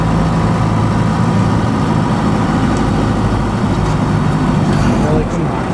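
A 4BT Cummins diesel engine in a Ford F150 truck drones loudly and steadily with a low, rough rumble and no pauses, close to the listener.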